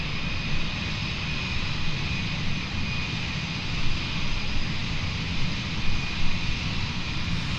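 Blue Angels jets taxiing at the Seafair 2025 air show, a continuous broadband jet engine roar with a high whine, steady and fairly distant with slight swells, no voices.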